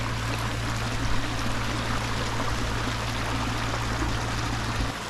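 Water from a pond aeration waterfall pours in a steady, close, even rush at the bottom of the fall, with a low constant hum beneath it and no voices.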